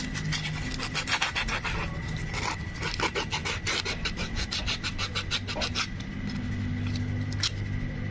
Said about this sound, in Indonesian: untuk menghilangkan bagian yang licin di kampas ganda ini, nah kita ini bisa amplas dikit pakai amplas halus.